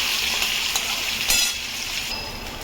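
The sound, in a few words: onions frying in a pan for chicken kosha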